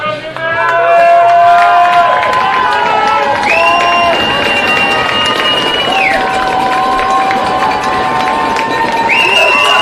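Spectators at a high school lacrosse game, Rancho Cotate at Cardinal Newman, make a steady, loud roar of cheering and shouting for the full stretch, with whistle-like tones and voices mixed into the crowd.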